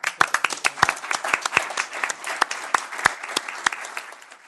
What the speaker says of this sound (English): I'm going to give you a round of applause for that